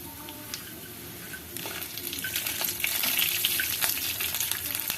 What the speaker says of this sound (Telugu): ఎనిమిది ఎండు మిరపకాయలు వేయించుకుని ఇందులో మనం ఆవాలు మెంతులు జీలకర్ర ధనియం పెట్టుకున్నాం కూడా అది కూడా ఇందులో వేసేసుకోవాలండి